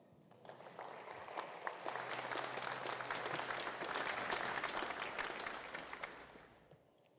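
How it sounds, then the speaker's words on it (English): Audience applause at a remembrance ceremony, a broad wash of many hands clapping that swells in the middle and tapers off at the end, heard from a moderate distance and rather quiet overall. "Now you can applaud."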